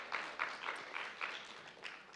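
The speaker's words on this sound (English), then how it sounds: "give a round of applause to him" Faint audience applause at an international climate neutrality summit, a sparse crowd clapping in soft, repeated bursts heard from a distance.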